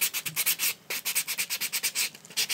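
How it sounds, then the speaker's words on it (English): Brisk back-and-forth strokes of a sanding block rub against a hard bottle top, a steady rhythmic scratching of about a dozen quick passes, close up and alone. "if you take a sanding block and just give it a light rub"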